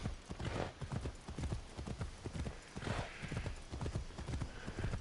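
Galloping horse hoofbeats in the video game Assassin's Creed Shadows, a rapid, rhythmic clip-clop that drives on steadily at close range, with a faint snort or whinny mixed in and no talk over it.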